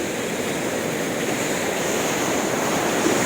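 Ocean waves wash against a beach in a continuous loud roar of surf, with wind rumbling steadily across the microphone.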